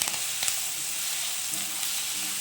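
Sausage masala with green chillies and curry leaves sautéing in a pan gives a continuous, fairly loud sizzle, with a few faint clinks of stirring near the start and no voices.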